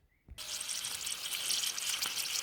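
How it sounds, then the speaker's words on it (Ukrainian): Meat frying in a pan on a gas stove in oil, a steady loud sizzling hiss that starts abruptly after a brief quiet moment and continues without pause. "Жариться наше м'ясо"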